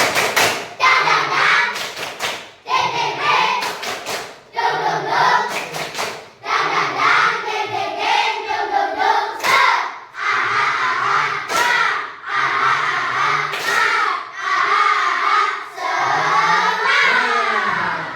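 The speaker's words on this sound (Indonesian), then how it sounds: "Kita tepuk semangat ya, tepuk semangat." Fourth-grade schoolchildren clap in a rhythmic chant, with bursts of claps and shouted voices in a steady pattern that repeats for a long stretch, loud and close in a classroom.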